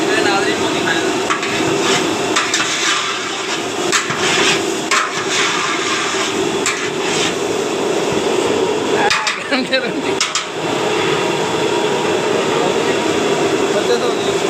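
Spices roasting in a large pan for restaurant-style chicken biryani make a loud, dense sizzle with repeated scraping and clattering from stirring, and a voice talks over it.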